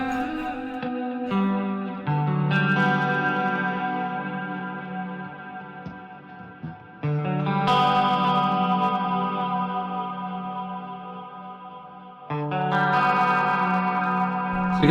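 A Cort KX508 MS II eight-string electric guitar plays through a distorted, effects-laden amp on its neck pickup. It rings out in loud, thick sustained chords, re-struck several times with brief pauses between them.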